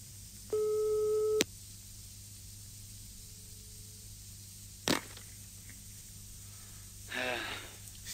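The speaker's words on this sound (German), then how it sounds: "Lange hörte ich nur das Rufzeichen" A telephone ringing tone heard through the earpiece in a German science-fiction radio drama: a single steady tone lasting about a second, ending in a click, followed by faint hiss and a few soft noises.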